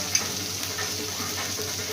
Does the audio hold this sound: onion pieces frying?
yes